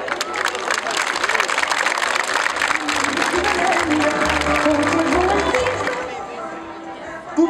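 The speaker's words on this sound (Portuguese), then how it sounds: "Eu ia desde já pedir a primeira grande salva de palmas para a Escola de Música da LAC e para o grupo Aqua Cantante." A large outdoor crowd at a street parade festival in Aguada de Cima claps long and loud in dense applause mixed with cheering and chatter, then tapers off near the end.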